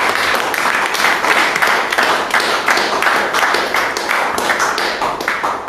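A church congregation claps together in steady, dense applause, close and loud throughout with no pause, the rhythmic hand claps filling the room.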